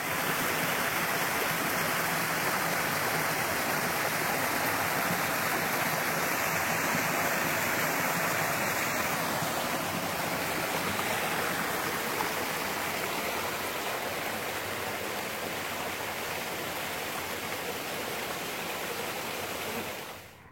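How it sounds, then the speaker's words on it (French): A mountain stream rushes through a gorge about twenty metres below, a broad constant hiss of flowing water, steady and unbroken throughout with no voices, ending abruptly. "On a le ruisseau qui est là-bas en bas, à 20 mètres."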